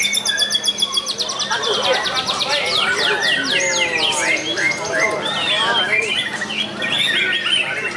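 Songbirds competing at the GMK Cup 8 bird singing contest chirp and trill in dense, overlapping bursts, several birds calling at once, bright and close, with a low murmur of background noise beneath.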